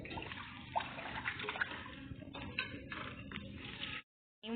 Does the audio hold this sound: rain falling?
no